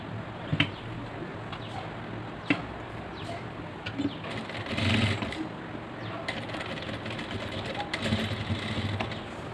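A sewing machine runs in bursts while stitching a chudidhar, a soft mechanical whirr with a few sharp clicks, heard close by in a quiet room.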